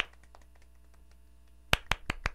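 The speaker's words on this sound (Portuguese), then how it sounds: "Então vamos dar palmas para a Melissa." A small audience clapping for a game winner: four sharp, close claps in a quick burst after a quiet pause, with faint room sound before.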